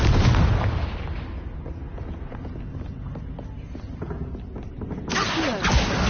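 Confringo blasting spells in a Harry Potter video game: a loud explosive burst at the start, then scattered impacts and clattering debris, and a second blast near the end.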